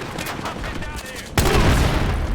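Rapid gunfire crackles in the Battlefield video game, with a burst of shots that jumps sharply louder partway through and continues as dense, close firing, with faint voices beneath.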